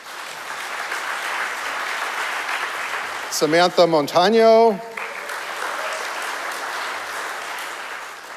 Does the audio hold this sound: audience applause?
yes